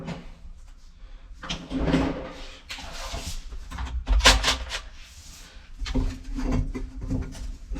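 Cabinet cover door under a kitchen sink being pried and pulled off, with a run of knocks, scrapes and woody clunks, one sharp bang near the middle, close and moderately loud.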